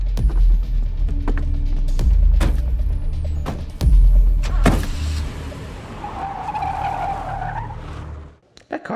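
A car skids with tire screeches amid a loud action-movie scene, with engine roar, heavy impacts and a long screech near the end, all close and loud.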